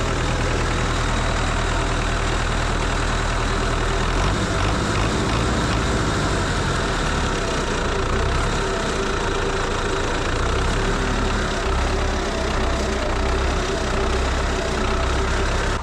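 An engine idles with unstable RPM, its steady low rumble shifting pitch around four seconds and wavering again later. It runs loud and close throughout, with a constant mechanical clatter and no voices.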